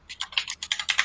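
Someone types on a computer keyboard, making a quick, uneven run of about ten close, crisp key clicks, heard alone.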